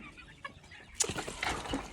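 Startled chickens, including barred rock hens and a rooster, break into sudden clucking and wing flapping partway through after a quiet start, with a burst of agitated squawks and feathers beating close by.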